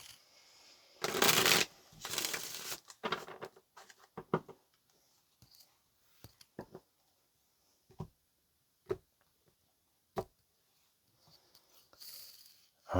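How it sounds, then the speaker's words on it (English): Cards riffle-shuffled up close in a few quick bursts, followed by scattered soft taps and clicks of cards being handled, with quiet gaps between. "let's get one more shuffle"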